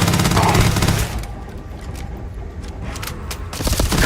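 Weapons firing in Starfield, loud rapid automatic bursts with booming impacts at the start and end and a rattling spray between, close, with a voice talking during the firefight.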